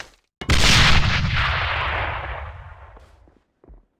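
A grenade detonates in the AVA shooter game, a sudden loud blast followed by a long rumbling decay that fades over about three seconds, with a faint thud near the end.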